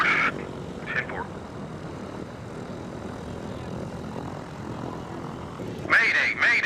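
Steady drone of a Cessna aircraft engine in flight, reporting difficulty, heard beneath radio-style voices talking at the start and end.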